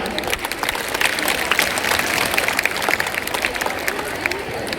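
An audience applauds a performer at a Teachers' Day celebration, steady, dense clapping with scattered sharp claps that stays even throughout.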